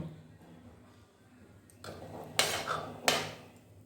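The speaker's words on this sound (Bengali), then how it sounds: "কুকারে ঢাকা বন্ধ করে দিয়েছি" A metal pressure cooker lid being closed over boiling chickpeas, with two sharp clanks of metal on metal and some scraping in between, close and fairly loud in a quiet kitchen.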